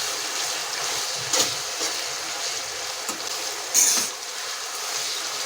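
Tomato pieces with salt sizzling steadily in a pan for potato tomato curry, with a few brief scraping stirs rising over the constant frying hiss.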